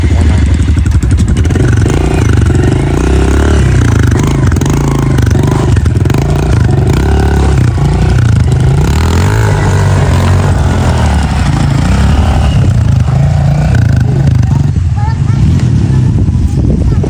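Dirt motorcycle engine revving and labouring on a sandy off-road trail at a Tanay campsite, loud and close throughout, with clattering and scraping from the bike, and voices talking over it.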